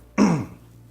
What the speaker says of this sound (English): I got a cough again here.